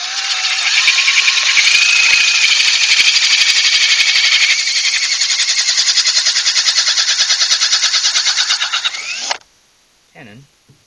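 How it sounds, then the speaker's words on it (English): A power drill drives a Veritas 3/4-inch tenon cutter into bamboo, giving a loud, steady high-pitched whine with a rasping cutting texture for about nine seconds before it stops abruptly, followed by a brief faint sound. "we can chuck that in our drill"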